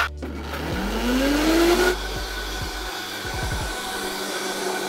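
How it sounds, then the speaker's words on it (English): Liquid blender whirring through a salsa for Bolivian salteñas: a loud, steady motor roar for about two seconds that abruptly cuts off, followed by a few quiet knocks and low room noise. "I'm gonna put it into a liquid blender."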